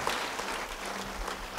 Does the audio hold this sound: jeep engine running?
no